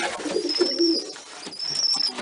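Soft pigeon coos repeat close by in short murmuring phrases over a quiet background, with no talking; the pigeons are being kept for breeding.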